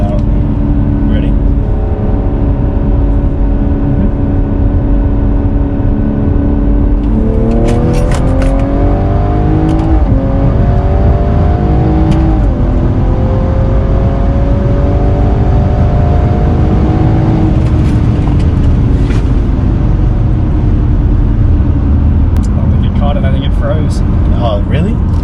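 A 630whp BMW B58 on E50 and methanol accelerates hard in third gear from 60, its loud engine note climbing steadily through the gear with a brief shift, heard from inside the car while people talk over it.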